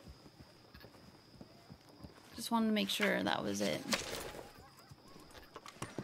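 A horse's hooves clop at an unhurried walk in the video game Red Dead Redemption 2. The clops are quiet and close, and a voice speaks over them partway through.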